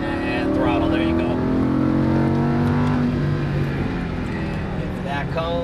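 A Lamborghini Huracan LP610-4 accelerating on a racetrack, its engine note climbing steadily in a continuous droning roar heard from inside the car beneath a man's speech.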